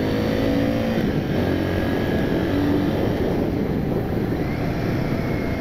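Royal Enfield Guerrilla 450 motorcycle accelerating on the road, a loud steady engine drone with rising pitch under constant rushing wind noise, heard from on the bike.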